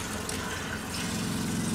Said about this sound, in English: we just have cold water, but it does run. Comes out of the faucet there.